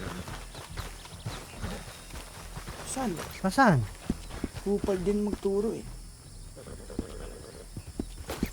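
Horse hooves clip-clop at a slow walk in a steady rhythm, heard under close conversation between several people speaking Filipino.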